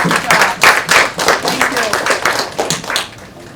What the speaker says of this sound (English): that is a clap